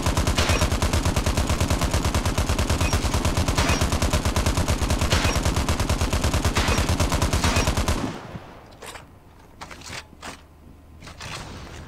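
Rapid automatic gunfire from a weapon on a Call of Duty: Mobile practice range, a loud, evenly spaced stream of shots for about eight seconds before cutting off to quiet clicks and faint sounds.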